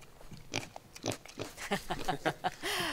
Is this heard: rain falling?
no